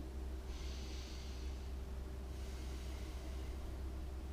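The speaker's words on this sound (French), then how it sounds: "on prend 3 respirations" Two slow, deep breaths taken while holding a gentle yoga pose, each a soft, drawn-out airy exhale, close but faint over a steady low hum.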